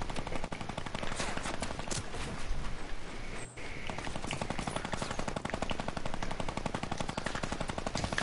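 Sustained, rapid machine-gun fire near a base in the video game Blorplite, loud and close with an almost unbroken stream of shots and one brief gap midway.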